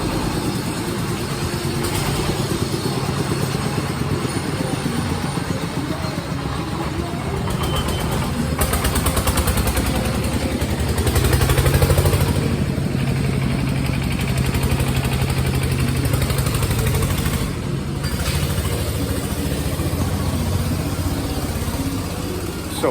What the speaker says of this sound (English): we're right next to the busy main street that goes from the city centre to the seaside